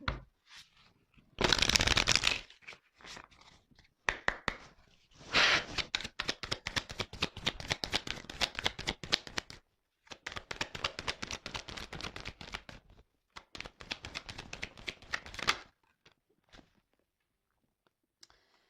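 Tarot cards shuffled and drawn up close, with long bursts of rapid riffling and flicking, brief pauses between, then a few soft card slaps as the deck quiets at the end; no one speaks.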